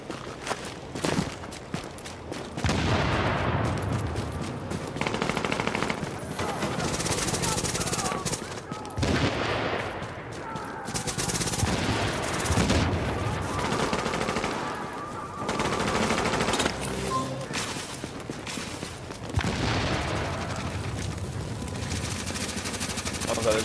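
Turret fire in the video game The Division's Last Stand mode, heard as sustained loud automatic gunfire in long bursts mixed with footsteps and other game noise, near and dense, with a voice talking over it.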